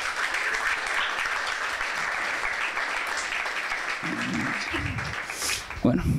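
Steady audience applause fills a hall for two guests at a talk on liberalism, a dense even clapping texture with a few voices breaking through near the end.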